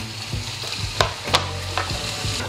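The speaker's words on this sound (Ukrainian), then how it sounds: "буквально грамулечка олійки і підтушковуємо 2-3 хвилини." Chicken giblets sauté in a little oil in a pan, sizzling steadily with several sharp crackles and stirring scrapes that come close and clear, with no speech.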